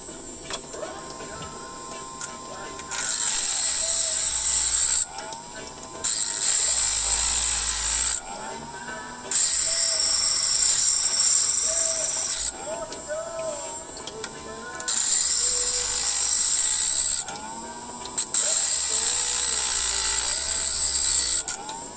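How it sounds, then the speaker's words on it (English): A Dremel rotary tool with a cutoff wheel slices into boulder opal, producing five loud, high grinding whine bursts a few seconds each, with quieter pauses between them. "So I'm cutting this off with my Dremel, with the cutoff wheel."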